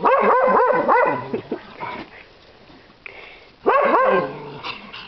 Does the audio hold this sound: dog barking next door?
yes